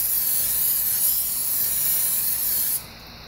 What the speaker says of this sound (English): I'm hit it with this spray.